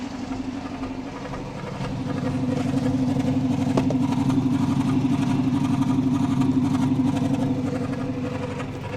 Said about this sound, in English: The exhaust note sounds like some kind of drum roll.